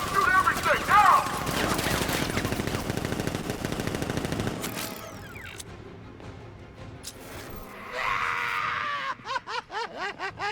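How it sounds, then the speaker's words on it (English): Heavy automatic gunfire rattles loudly and continuously through the first half of a Batman: Arkham Knight video game firefight, then gives way to quieter game effects and a final run of rapid bursts. "Open fire! Shoot everything, now!"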